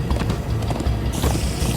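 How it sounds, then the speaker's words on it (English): Horses galloping in the video game Minecraft: Story Mode, a steady rolling clatter of hooves with a dense low rumble throughout, loud and close, with no talk over it. "Come on, horses!"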